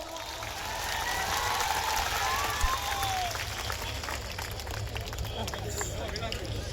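An audience at a Thakor community gathering claps in a spread-out round of applause under amplified speech and crowd murmur, a faint whistle rising partway through.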